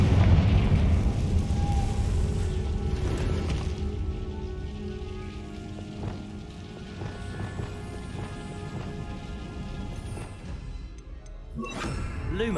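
A Confringo fire spell bursts in the Hogwarts Legacy video game: a loud, rumbling blast at the start that trails into crackling, sustained noise under an ongoing musical score.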